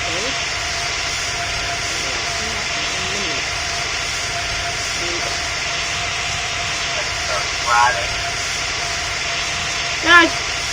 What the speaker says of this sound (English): apparently the engine sounds are deeper than other default sounds